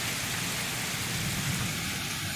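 Heavy rain pours during a tornado-warning storm on a flooding street, a dense, loud and steady roar of downpour with low thunder rumbling beneath it and no talking.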